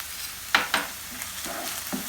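Spices (salt, black pepper and red pepper flakes) stirred through sizzling onions in a frying pan, with a quiet hiss under two sharp scraping stirs and a few softer utensil strokes.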